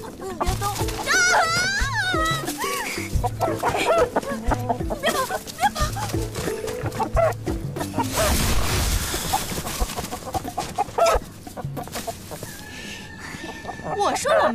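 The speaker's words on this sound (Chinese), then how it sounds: "不就是一只鸡吗？" A chicken clucks and squawks near at hand while people argue loudly over it in a period drama scene, with the bird's calls scattered through the talk.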